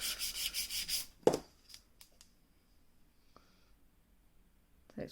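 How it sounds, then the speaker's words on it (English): An acrylic nail is worked with a nail file, a burst of rapid rough back-and-forth rubbing strokes up close for about a second, followed by a sharp knock, faint light taps and near silence. "You can see I'm filing at the side."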